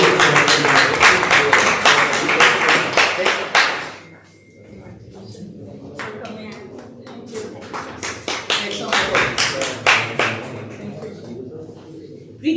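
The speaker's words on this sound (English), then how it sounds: "we should actually put a big round of applause for them" Audience clapping for school students at a live event in Bihar, loud crisp rhythmic claps for several seconds, then a brief lull with scattered claps and shuffling before irregular clapping picks up again.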